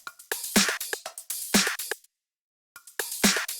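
Layered top percussion and clap in a Kpop dance track, punchy hits and bright noisy snaps in a syncopated loop, loud and close, dropping out briefly to silence before returning.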